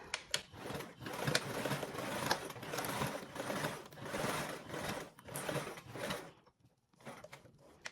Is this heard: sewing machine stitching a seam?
yes